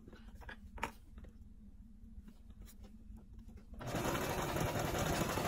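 A household sewing machine back stitching stretch Ankara fabric for a slouchy hat: a few faint taps and a low hum, then the motor whirs up into a loud, steady stitching run, close by.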